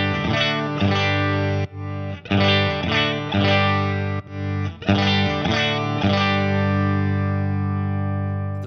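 A distorted, effects-laden electric instrument played through an Effectrode PC-2A tube compressor, with sustained chords struck repeatedly in short bursts and a final ringing chord fading out, loud and alone.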